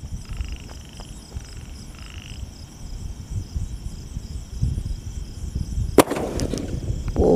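An Ajanta sky shot firework launches outdoors at Diwali with a sharp crack of ignition and a whooshing burst, set against a steady chorus of crickets and frogs.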